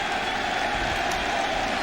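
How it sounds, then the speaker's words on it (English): A baseball crowd at a Yankees–Braves game cheers and applauds, a steady, dense roar of many distant voices and claps filling the stadium without pause. "they cheer when he catches it"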